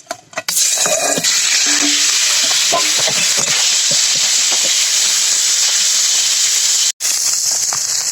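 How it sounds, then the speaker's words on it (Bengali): Shol fish pieces coated in turmeric and salt fry in hot oil in a pan, giving a loud, continuous close-up sizzle with crackling spatter that breaks off for an instant near the end. "মাছ দিয়ে ভেজে নিই"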